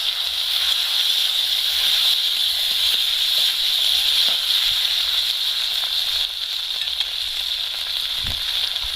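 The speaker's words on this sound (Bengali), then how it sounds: "পেঁয়াজটা খুব সুন্দর করে ভাজা হয়ে গেছে এবার এবার এর মধ্যে আমি টমেটো কুচি দিয়ে দিচ্ছি" Chopped tomatoes added to fried onions in a pan sizzle loudly and continuously up close, a bright steady hiss with faint stirring knocks beneath.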